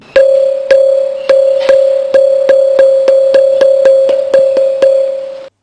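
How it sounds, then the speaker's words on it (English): A steady series of bright ringing strikes on a stone pillar, about fourteen in quick even succession, each a sustained tone like a school bell, close and unaccompanied. "And here is the sound similar to a school bell."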